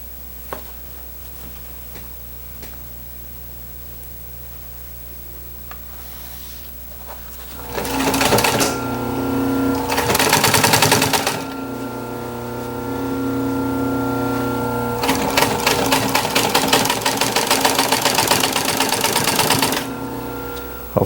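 Sewing machine stitching seams on upholstery for a 1930s Art Deco chair, two loud, close runs of rapid mechanical clatter separated by a short pause, after quiet handling.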